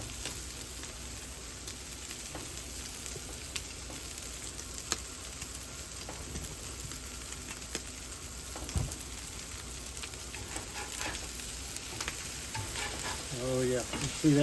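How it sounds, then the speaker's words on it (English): Bacon frying on a Blackstone flat-top griddle, a dense, steady crackling sizzle throughout with scattered pops and a few utensil scrapes, close and continuous with no talking. "Check this bacon again and get it turned over."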